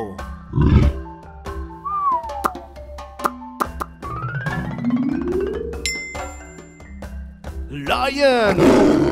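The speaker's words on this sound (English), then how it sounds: "Lion." A lion roars in a children's zoo-animal segment, a loud, rumbling call set among playful music and cartoon-style sound effects.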